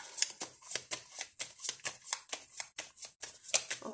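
Météore oracle cards being shuffled by hand, a steady run of crisp riffling flicks repeating about twice a second, close and fairly soft, with no talking.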